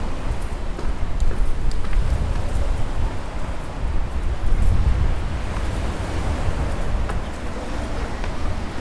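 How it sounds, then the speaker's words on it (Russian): Wind and breaking sea waves at a shore along a descent to the sea, a steady, loud, broadband rush of surf and gusts that continues without pause and with no voices. "Какой ветер хороший, наверное, волны будут приятные."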